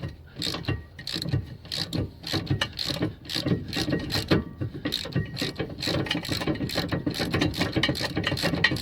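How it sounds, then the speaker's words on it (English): A ratchet wrench clicks steadily and rapidly while loosening the rear brake caliper bolts on a Vauxhall Mokka during a disc and pad replacement, close and continuous, with some metallic knocks. "it's always best to crack both bolts off before you actually take one out"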